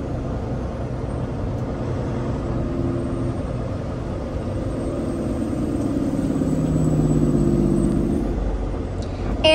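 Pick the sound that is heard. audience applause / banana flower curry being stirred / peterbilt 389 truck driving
peterbilt 389 truck driving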